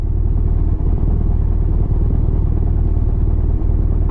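A motorcycle ridden by a new rider pulls away with a loud, close, continuous engine drone that holds steady without a break.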